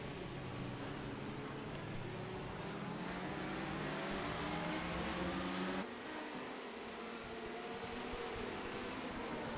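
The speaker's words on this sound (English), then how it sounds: "these two LMP2s are battling for position" Two LMP2 prototype race cars dueling at Monza in the iRacing sim, engines droning steadily at high revs with a shift in pitch midway, faint throughout.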